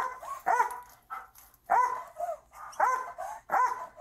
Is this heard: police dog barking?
yes